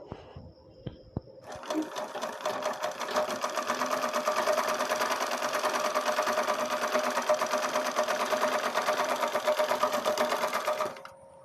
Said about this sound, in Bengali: একটি মুহুরি আমি সেলাই করে নিয়েছি এবং অন্য মুহুরিটিও আমি সেম একইভাবে সেলাই করে নিচ্ছি।